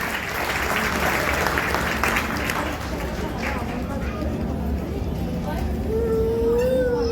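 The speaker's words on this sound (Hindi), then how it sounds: "सादर आपको तालियां हुई जोरदार" Applause from an audience of LIC Bima Sakhi insurance agents at a gathering, a dense steady patter of many hands that carries on for several seconds, with voices and a brief tone rising near the end.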